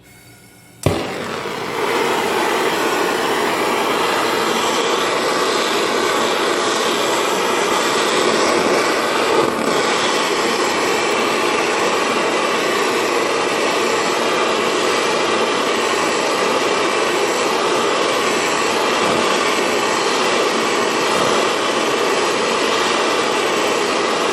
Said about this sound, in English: I'm going to use this tip on the acetylene torch